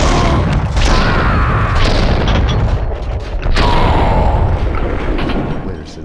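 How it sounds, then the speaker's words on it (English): Heavy gunfire in Max Payne 2, a rapid barrage of loud booming shots and blasts, close and continuous with a brief lull midway. "Someone must have heard the gunfire"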